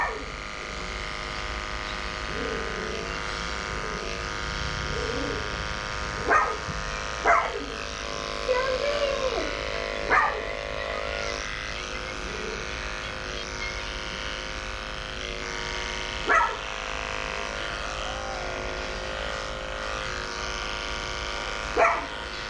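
Dogs barking in a grooming salon, several sharp barks standing out at intervals over a steady electric clipper or dryer drone, with faint whimpers and yips between them.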